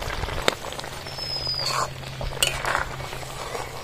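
A spoon stirs a vegetarian cabbage curry with poppy seed, cashew and melon-seed paste in a pan, giving scattered metallic clinks and scrapes over a low steady hum.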